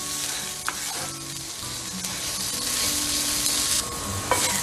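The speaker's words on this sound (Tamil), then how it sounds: "நல்லா இது செவந்து வர அளவுக்கு வதக்கி விட்டுக்கணும்." Onions sizzling and frying in a pan as they are sautéed for a chana masala gravy, a steady loud crackle with occasional clinks of stirring throughout, no voices.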